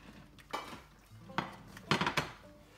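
A clootie dumpling being lifted out of a pan of boiling water, with a few faint metallic clinks and knocks of utensils against the pan spaced irregularly over a quiet background.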